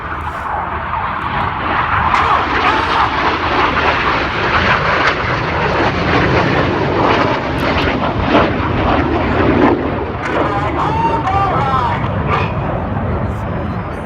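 RAF Red Arrows jets dive at about 300 feet with a closing speed over 700 mph at the Midlands Airfestival 2022, a loud, steady, broadband jet roar sustained throughout with a commentator's voice over it.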